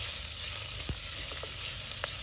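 Onion fries in hot oil with curry leaves and three green chillies for Mangalorean-style squid sukka. A close, continuous sizzle is broken by a couple of faint stirring scrapes, with no voices.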